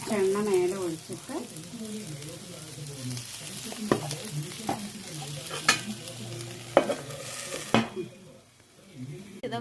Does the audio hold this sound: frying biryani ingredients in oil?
yes